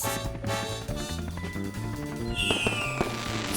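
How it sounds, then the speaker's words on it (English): New Year fireworks bang and crackle in a short burst of sharp pops and a rising whistle, set against bright background music. "Packed into the top of the firework are metal salts called stars."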